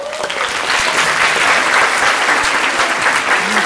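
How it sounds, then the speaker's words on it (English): Loud, close applause from an audience at a school Model United Nations conference honouring teachers, thick continuous clapping with a voice faintly heard beneath. "A round of applause to our teachers."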